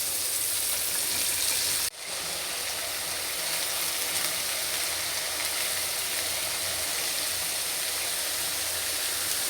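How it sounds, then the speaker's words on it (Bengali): Okra (bhindi) fries in a pan with a steady, dense, hissing sizzle that stays close and even throughout, broken by a single sharp click near the start, with no voices. "এখন ভেন্ডিটা ভেজে নিচ্ছি।"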